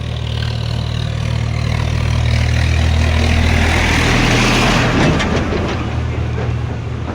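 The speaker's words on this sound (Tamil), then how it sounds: "வழியில் டிராக்டர் சவுண்டு ரொம்ப அதிகமாக கேட்டனால என்னால் பேச முடியல" A loud tractor engine drones steadily and close by along a roadside, a heavy low rumble that holds throughout without pause.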